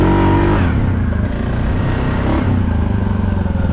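A Suzuki KingQuad 750 ATV engine revs hard climbing a small hill, a loud close roar that swells, briefly dips, and then pulls steadily again with a throbbing, chugging exhaust.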